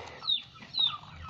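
Bangkok chickens give two short, squeaky clucks close by, each about a tenth of a second long, over a quiet farmyard background.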